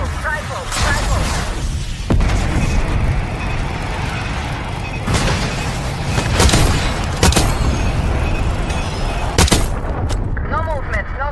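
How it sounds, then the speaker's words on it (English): Hellstorm Strike explosions from Call of Duty Black Ops 6, a loud run of booms and blasts at about 2, 5, 7 and 9.5 seconds over steady battlefield rumble, with radio-style voices talking through the barrage. "Bion requesting Hellstorm Strike."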